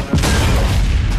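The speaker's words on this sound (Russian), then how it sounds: "Мы открыли огонь из главных орудий" Tank main guns fire: a single deep, heavy boom erupts and rumbles on, loud and close, with a long low roar filling the rest of the moment.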